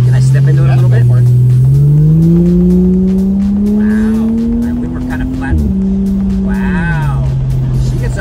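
A Toyota Soarer's engine revs up and climbs steadily in pitch as the car accelerates on a country road, loud and close, with road and tire noise underneath.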